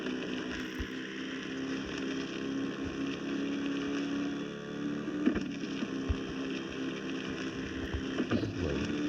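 A Can-Am Maverick off-road vehicle in the video game Offroad Outlaws drives in high gear, a steady droning engine hum with a few soft thumps, moderately loud and without talk.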